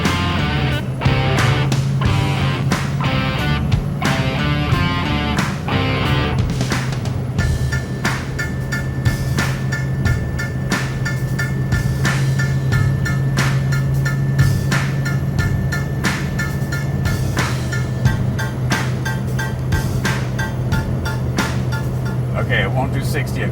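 Untuned Ford 6.0 Powerstroke diesel pickup accelerating from a stop at quarter throttle, a steady deep drone with a rising whine heard from inside the cab, a voice talking briefly over it.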